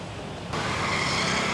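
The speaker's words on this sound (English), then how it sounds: "the traffic looks and sounds a lot worse than it really is" Busy street traffic in an Indian city: after a brief quieter moment, a steady, dense roar of cars, trucks and buses sets in and continues without a break, with no talking.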